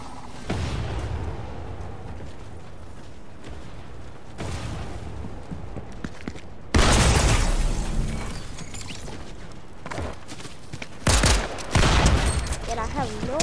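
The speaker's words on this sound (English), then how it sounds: "No, I'm just gonna shoot you." Gunfire in the Fortnite video game: loud, dense bursts of shots and mechanical clatter in several clusters, strongest over the second half, with game effects throughout.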